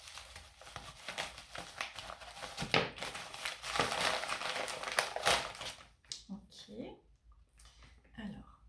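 Faerytale oracle card deck being unwrapped, close crinkling and rustling of plastic packaging with sharp tearing snaps, followed by lighter handling sounds as the noise thins out.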